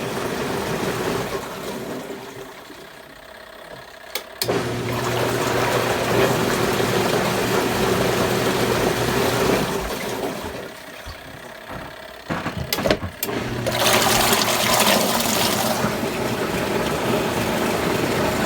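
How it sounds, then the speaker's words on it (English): A Sky twin tub washing machine runs its agitation cycle, a motor hum with sloshing water that stops and restarts in a few timed bursts, with short clicks between them. "that's the agitating test on this machine"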